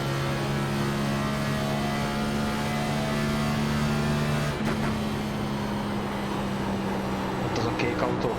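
A race car engine drones steadily in the racing game iRacing on the Chicagoland oval, a sustained high-pitched whine with a shift in pitch midway, while a commentator speaks over it.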